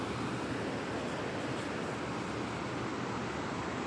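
Oak Creek flows beneath a bridge in Cornville in a steady, close rush of water, an even broadband wash that holds without pause or speech.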